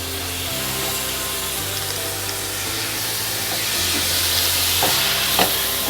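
Tomatoes being sautéed in masala in a pan for a chicken kurma, a steady close sizzle with scraping stirs and a few sharp utensil knocks near the end, no voices.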